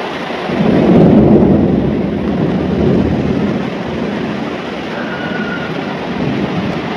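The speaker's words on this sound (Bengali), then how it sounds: "একদম বজ্রপাত হচ্ছে, ভীষণ জোরে শব্দ, বাবা ভয়ই লেগে যাচ্ছে।" Heavy downpour with a deep rolling thunderclap swelling early and fading into steady, dense rain hiss, loud and close, with no talk.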